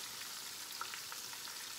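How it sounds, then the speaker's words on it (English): Fish fries in hot oil with green onion added, giving a steady, close hiss and crackle with a few brief pops throughout. "just stick it in the oil when you're frying the fish, it works"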